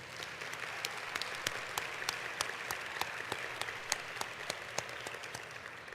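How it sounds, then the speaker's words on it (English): Steady applause from an audience in a room at a welcoming address, dense clapping throughout with a few sharper claps standing out, fairly distant and even in level. "So we're going to give them a round of applause because they're in the room."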